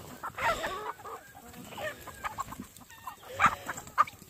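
Free-range chickens cluck and squawk in a flock at dusk, with several bursts of clucking close by and a busy, scattered rhythm of calls throughout.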